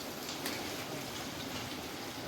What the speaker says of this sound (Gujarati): ચાલુ વરસાદમાં નીકળ્યા છીએ પલળતા